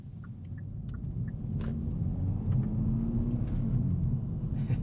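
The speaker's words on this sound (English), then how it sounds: "Quite a throaty exhaust note even at low speeds." A 2022 Kia Forte GT driving at low speed, its throaty exhaust giving a steady deep rumble that swells slightly as it pulls along, heard from inside the car with a few faint clicks and no talking.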